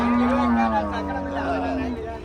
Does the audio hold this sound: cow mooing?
yes